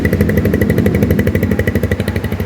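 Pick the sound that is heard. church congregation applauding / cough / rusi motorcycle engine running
rusi motorcycle engine running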